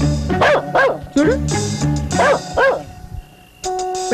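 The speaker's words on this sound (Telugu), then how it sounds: "కుక్క ఎందుకు అరుస్తుంది చూడండి రా." A dog gives several yipping barks in a village household setting, close and loud, followed by a brief quieter stretch and then a short burst of other noise.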